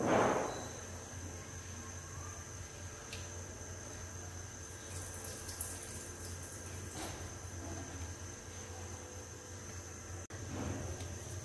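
Water drains from soaked black chickpeas in a steady, soft hiss with faint splashing, a continuous low rush that stays even throughout without speech.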